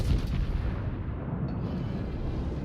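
Ship artillery salvo fires in a World of Warships-style naval battle game, a heavy low rumbling boom that starts loud and rolls on steadily without pause.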